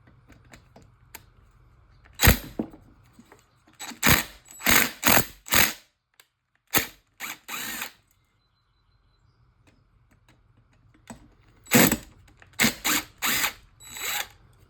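A ratchet wrench clicks in quick bursts as hand tools take apart an Echo PB-250LN leaf blower engine for a top-end rebuild, close and crisp, separated by quiet pauses.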